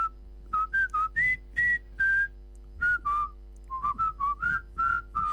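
A person whistles a song nearby, a clear melody of short separate phrases with brief pauses between them, over a faint steady hum.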